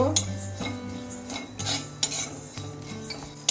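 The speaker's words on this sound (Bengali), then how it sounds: "এই যে ধনিয়াটা একটু লাল লাল হয়ে গেছে, এখন আমি জিরেটা দিয়ে দেব, সাদা জিরে।" Coriander and cumin seeds dry roasting in a wok, heard as sharp scrapes and taps of a metal spoon against the pan at irregular intervals. Background music plays underneath the scraping.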